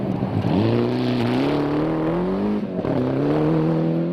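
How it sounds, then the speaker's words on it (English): A rally car engine drones and revs unevenly during the Possum Bourne Memorial Rally in New Zealand, its note climbing then stumbling with a rough, sputtering quality, not running on all four cylinders, heard up close. "that doesn't sound as if the engine's on all 4 cylinders"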